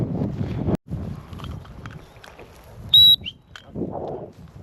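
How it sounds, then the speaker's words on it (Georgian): Gusty wind buffets an open outdoor microphone in rough, uneven low rumbles, briefly dropping out, while a short whistle-like tone cuts through near the middle and the gusts swell again at the end. "ნიავი რაღაც ქაოსურად ქრის რა"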